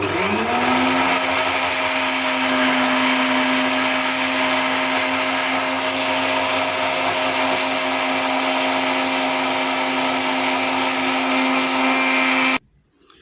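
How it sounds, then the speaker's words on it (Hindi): Electric grinder running steadily, whisking eggs, oil and vanilla essence, a loud continuous high whine with a constant motor hum for about twelve seconds before abruptly stopping. "वनीला एसेंस, अंडे और ऑयल, इसको हम पहले अच्छी तरह से ग्राइंडर को चला देंगे।"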